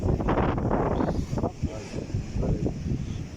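Cold wind buffeting a microphone on a UK shore during a fishing session, a loud, continuous rumbling roar with gusts rising and falling throughout.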